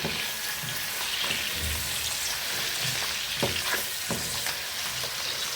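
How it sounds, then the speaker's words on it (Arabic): Sausage sautés in a hot pan with a steady close sizzle and frying hiss, broken by a few soft stirring scrapes and low thumps. "حطيت السجق كده هشوحه"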